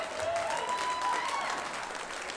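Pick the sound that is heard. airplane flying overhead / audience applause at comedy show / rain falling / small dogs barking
audience applause at comedy show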